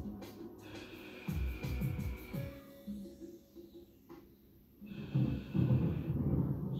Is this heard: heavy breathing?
yes